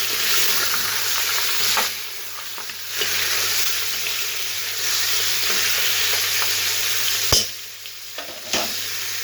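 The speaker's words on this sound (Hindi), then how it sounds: "इसके साथ ही हमने अपना मटन ऐड कर देना है। अब हम इसे अच्छी तरह से भून लेंगे" Mutton frying over a high flame in a karahi for tamatar karahi, with a steady loud sizzle broken by a few sharp clanks of the spoon as the meat is stirred; no one speaks.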